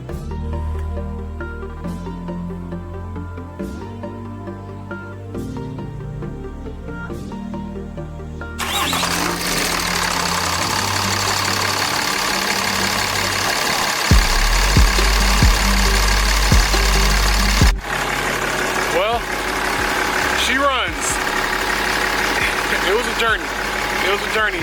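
A 6.7 Cummins diesel fitted with dual CP3 fuel pumps cranks over, then starts and settles into a loud, steady idle, with music playing and voices under it.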